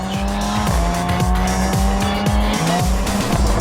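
A rental car driven hard up Colorado mountain roads, heard from close by: the engine revs loudly in repeated rising pulls, with tire squeal over a constant, intense drone.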